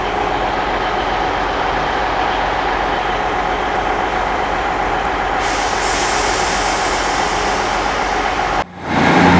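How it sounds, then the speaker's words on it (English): A loud, steady rumble of a passing East Midlands passenger train fills the clip, roaring continuously up close before cutting off abruptly near the end. "It's one of the East Midlands trains."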